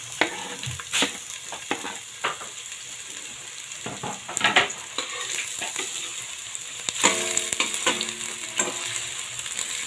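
Garlic and onion hit hot oil in a new casserole pot and sizzle steadily while a utensil stirs and scrapes in irregular strokes, close up and with no talking.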